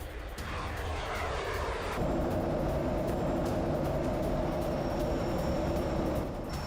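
Danish F-35 fighter jets flying over eastern Greenland during a joint war drill with France, a steady loud roar of jet engines that grows fuller after a couple of seconds and holds throughout with no voices.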